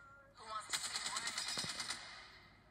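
Apex Legends on an iPhone, a video game, fires a rapid automatic burst: a quick run of evenly spaced shots lasting under two seconds, fairly quiet, with a brief rising tone just before it.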